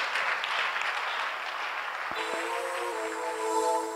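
Clapping from a church congregation during a French-language worship service, a broad steady wash of applause lasting throughout, with a sustained musical tone entering partway through.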